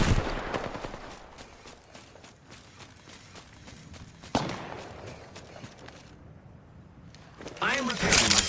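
Gunfire in the video game Apex Legends, a few sharp bursts, with one loud crack near the middle and a denser volley toward the end over a busy in-game background of movement and footsteps.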